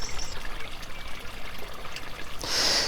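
Water trickles steadily through a garden stream into an intermediate basin with paving slabs, a continuous close splashing wash that swells brighter near the end.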